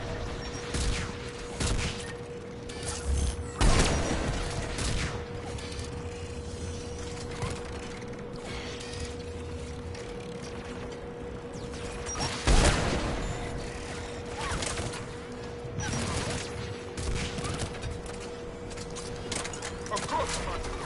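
Automated tower defence guns fire in Mass Effect 3, a steady rumble of battle noise broken by a few sharp, heavier bursts, with game dialogue and talk mixed in.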